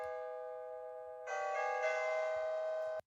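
A bell rings out with sustained tonal chimes, then a second brighter strike layered over the first at about one second in, ringing steadily and clearly indoors with no talk.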